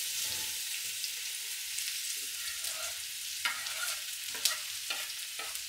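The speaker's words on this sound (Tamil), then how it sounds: "இப்போ இந்த நெய்யில் நாங்கள் வெட்டி வச்சிருந்த வெங்காயம், வேறு எதுவுமே சேர்க்கையில் வெங்காயத்தை சேர்க்கிறோம்" Chopped onions fry and sizzle in hot ghee for chicken biryani, with a steady crackling hiss and a few louder clinks and scrapes as they are stirred in the pan.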